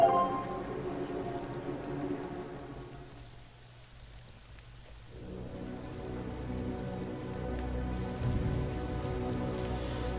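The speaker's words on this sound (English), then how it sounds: "And it is raining." Steady rain in the video game Echoes of Aetheria, a dense continuous patter that dips briefly midway then swells back, mixed with layered game ambience and music, no voices.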